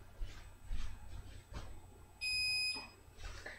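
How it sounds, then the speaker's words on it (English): Kitchen timer going off in a home kitchen while a salad is being prepared: one steady, piercing electronic beep lasting about half a second over faint background noise. "There's my timer."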